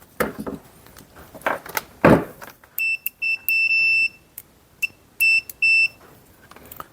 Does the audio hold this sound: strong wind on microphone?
no